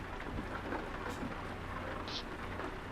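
Steady rain drums on a truck cab in Euro Truck Simulator 2, a continuous dense patter with low rumble underneath and no talk.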